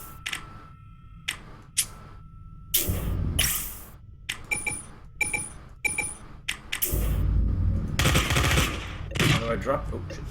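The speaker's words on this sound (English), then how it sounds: "I have the kinetic assault rifle." Sci-fi kinetic assault rifle fire in the first-person video game Consortium: several sharp bursts and single shots, loud and close, broken by clicks and short gaps, with a voice talking between them.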